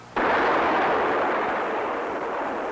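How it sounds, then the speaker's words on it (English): A Nike Zeus anti-missile launch in a loud, sudden roaring blast that holds steady and fades only slightly over a few seconds, with no voices. "A killer missile is being developed to intercept and destroy it far from its intended target."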